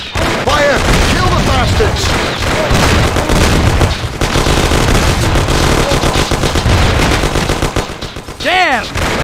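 Dense gunfire in a Mafia: The City of Lost Heaven shootout, relentless machine gun bursts and booming shots, loud and close, with shouting voices mixed in.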